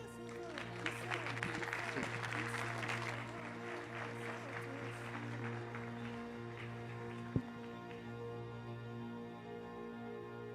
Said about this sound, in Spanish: Un aplauso, por favor, al doctor Daniel.